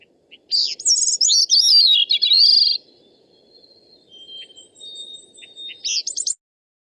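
Bicknell's thrush song rings out in a complex, fluting series of high spiraling phrases, clear and fairly close, with softer notes trailing off and a final rising burst, no talking.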